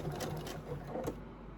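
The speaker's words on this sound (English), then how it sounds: "I've got my needle to stop in the down position, and we're just gonna start her up" A sewing machine starts stitching with the needle set to stop in the down position, giving a steady mechanical whir with soft rhythmic pulses, close and moderately loud throughout, with no talking.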